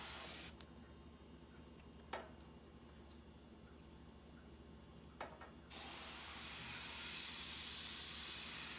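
A new airbrush gun sprays with a steady loud hiss while an air compressor hums underneath, with two sharp ticks partway through; the hiss shifts to a broader, louder rush near the end.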